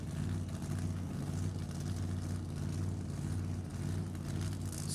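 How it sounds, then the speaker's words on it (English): A supercharged 451 cubic inch engine in a '38 Chevy Coupe AA fuel dragster drones steadily and loudly at close range, a deep constant rumble with no pauses and no voices. "Supercharged 451 cubic inch motor for Howard."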